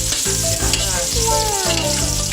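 Pork menudo sizzles and fries in a wok, a steady, loud crackling hiss with stirring scrapes throughout, no talking.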